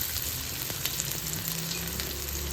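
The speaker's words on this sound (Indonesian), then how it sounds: "waktunya kita goreng dulu tempenya" Tempeh frying in hot oil for stir-fried water spinach, a steady close crackling sizzle with low rumble that runs unbroken throughout, no voices.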